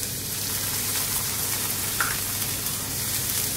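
Garlic, ginger, onion, chili and bacon stir-frying in a pan for prawn and egg fried rice, a steady close sizzle with light crackle and occasional stirring, no talking.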